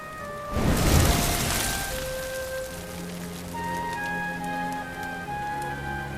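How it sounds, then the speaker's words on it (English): Rain in the Dragon Quest XI role-playing game sounds as a loud swelling hiss of falling drops early on, then settles into a softer steady patter under ringing musical tones. "Looks like the rain's dying down."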